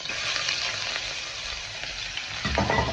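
Chopped onion drops into hot oil in a pan being readied for onion-stuffed chicken with green beans; a steady, close sizzle swells into a louder burst of frying near the end.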